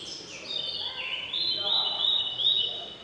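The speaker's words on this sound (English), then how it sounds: "Loud bird, right?" At a bird park in France, a loud bird calls with shrill, sustained, wavering cries that rise and fall for about three seconds over an outdoor background.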